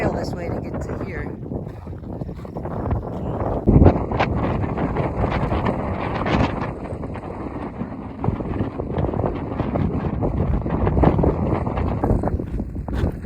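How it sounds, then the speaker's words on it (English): Gusty wind buffets the microphone in a constant rough roar with occasional louder thumps, close and loud, no clear talking. "Pretty windy up here."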